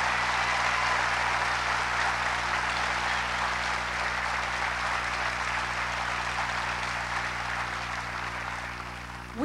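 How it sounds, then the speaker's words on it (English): A theater audience at a live stage show applauds the crew, a broad steady patter of many hands heard somewhat distantly over a low sustained musical hum, tapering slightly toward the end. "Give them all a great big round of applause."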